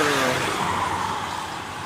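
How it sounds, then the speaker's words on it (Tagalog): Trucks and vans pass on a wet, slippery highway, a loud continuous roar with tire hiss that swells and slowly fades as the vehicles go by. "Ito mga truck naman."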